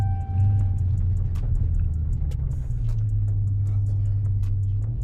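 A 2020 Dodge Charger Scat Pack engine holds a deep, steady low drone from a launch at full throttle, loud and close inside the cabin with faint clicks over it.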